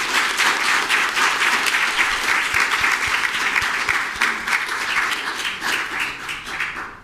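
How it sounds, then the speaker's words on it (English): Audience applause at a state judicial candidate forum, a steady round of clapping from a crowd that holds evenly for about seven seconds and tapers slightly at the end, with no talking over it. "Please join me in thanking Candidate Frank for participating in this forum with a round of applause."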